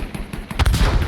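Short burst of machine gun strafing fire from a Zero A6M2 fighter plane in Battlefield 5, rapid muffled thumps that grow louder toward the end.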